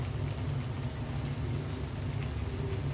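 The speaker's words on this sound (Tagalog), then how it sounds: "Kumukulo na siya" Puso ng saging (banana blossom) dish boiling in a rice cooker, giving a steady hissing, rushing simmer with a low rumble underneath, close and constant throughout with no talking.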